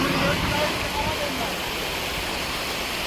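Water rushing steadily over rocks along a hillside stream at Jalajil during a hike, a dense, continuous broadband wash that stays loud and even throughout, with no clear voices over it.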